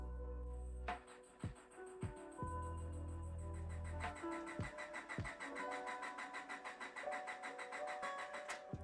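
A car engine running on E85 ethanol cranks on a cold start. Several short bursts of starter churning with pauses between them lead into an uneven, sputtering idle that steadies into a rough running rhythm.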